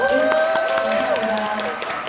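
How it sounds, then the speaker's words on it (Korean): Audience at a Korean provincial party meeting for a supreme council candidate clapping in scattered, sharp claps, partly masked by a sustained tonal sound and a voice. "오늘 박수 한 번 더 부탁드리겠습니다."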